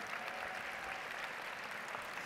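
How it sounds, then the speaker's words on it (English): Steady audience applause for parents and teachers at a live science talk, continuous even clapping throughout at moderate level with no talk over it. "a nice round of applause for the parents and teachers"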